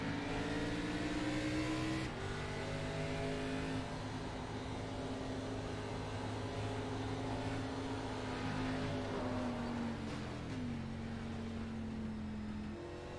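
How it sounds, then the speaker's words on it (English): A race car engine roars steadily from onboard at Bristol Motor Speedway, holding a high droning pitch that shifts down briefly and climbs again, loud and continuous throughout. "You're riding along with Tommy Reynolds in the 7 car"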